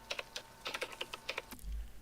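Typing on a heavy IBM mechanical keyboard in The Thing video game: a quick run of crisp, clacky keystrokes in an uneven rhythm, close and fairly faint, followed by a low rumble.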